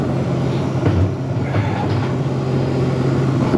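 A Hoshizaki commercial ice machine runs continuously nearby, a steady mechanical hum and rumble with faint clattering.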